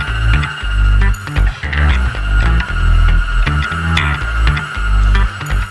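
An electric mixer whips meringue for a Pavlova dessert, a steady loud whirring hum with throbbing pulses that runs without pause and rises and falls slightly in level.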